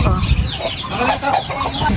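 Native chickens cluck close by in quick, irregular bursts, several birds calling over one another against a low background rumble.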